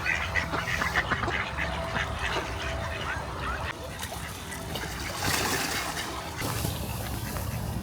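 Ducks quack intermittently at a park pond with swans and a chunk of ice in the middle, mixed into a busy outdoor wash of noise, moderately near.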